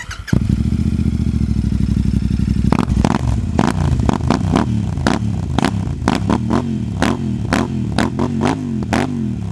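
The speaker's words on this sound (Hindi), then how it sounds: "ये exhaust rhino racing super metre six fifty के अंदर कैसा साउंड करेगा" Royal Enfield Super Meteor 650 motorcycle with a Rhino Racing exhaust, starting with a long crank, then idling with a loud, deep thump and repeated sharp throttle blips, close by.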